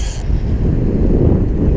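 Wind gusting steadily beside the Gibbon River in Yellowstone during fly fishing, a loud continuous low buffeting rumble across the microphone, opening with a brief hiss.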